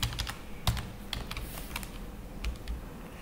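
Fingers type on a computer keyboard, entering a company's establishment registration number into an online form for Qatar's WPS wage protection system; a steady run of quick, close keystrokes with a few heavier taps.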